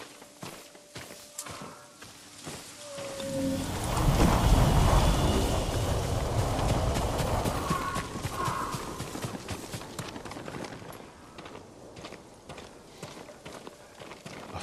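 Hooves clip-clop at a walking pace as a farm horse moves in the rain in Ghost of Tsushima; the steps swell louder midway and then ease off, with a soft wash of background noise.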